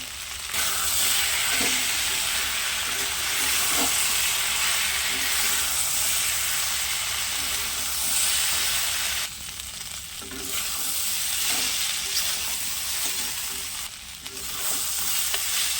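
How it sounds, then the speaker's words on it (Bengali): Taro and potatoes fry in a pan with spices, dry red chilli paste and ginger, giving a loud, steady sizzle and hiss that runs unbroken throughout with a few soft stirring scrapes and no voices. "এই সব কচু আলুটাকে আমি একেবারে মশলা দিয়ে সুন্দর করে কষে নিয়েছি"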